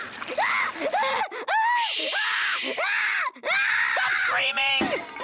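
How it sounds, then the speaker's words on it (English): A person screams in a string of loud, wavering wails, about six bursts separated by short gasping pauses, shrill and close. "Stop screaming! Why are you screaming?"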